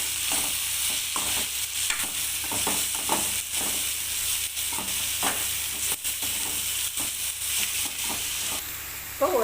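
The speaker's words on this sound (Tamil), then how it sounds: "போட்டு ஒரு வாரத்து வதக்கிக்கலாம் இப்போ நல்லா வதங்கிடுச்சு" Leftover rice mixture sautéing in a pan with coriander, a steady hiss and sizzle broken by frequent scraping stirs of a spoon, close and moderately loud.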